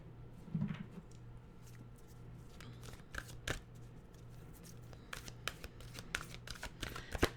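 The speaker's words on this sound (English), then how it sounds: "We'll get our well-being cards out here." Tarot cards being shuffled and handled at close range, soft riffles and light card flicks scattered over a quiet low hum, gentle and intermittent without speech.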